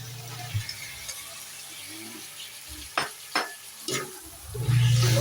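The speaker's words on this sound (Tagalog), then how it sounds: "Haluin lang natin ganyan" Browned pork and fresh tomatoes stirred in a cooking pot, a steady sizzle and frying crackle under several sharp scrapes and knocks of a spoon against the pot, ending in a louder burst of sizzling.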